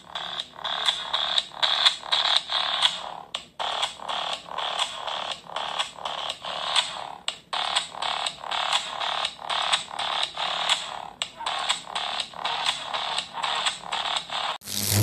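Thin, tinny music plays from a Ticwris Max 4G smartwatch speaker with a steady pulsing beat, moderately quiet and close.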